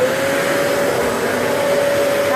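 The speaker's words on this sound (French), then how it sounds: "vous passez d'abord bien l'aspirateur sur le tapis partout" A vacuum cleaner runs over a carpet with a loud, steady whine and airy roar, continuous and close throughout.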